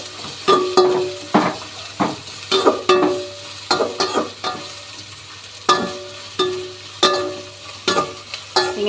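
Avaram flowers frying in oil, stirred with a spoon in a pan: a soft sizzle under repeated sharp metallic scrapes and clinks, close and irregular throughout.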